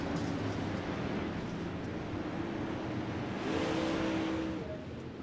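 Pro late model race cars lapping the track at Lanier, a steady engine roar that swells as cars come past, heard from a distance at moderate loudness.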